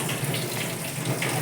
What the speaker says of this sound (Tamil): அரிசி நிறைய தண்ணி ஊற்றி கழுவணுன்றாங்க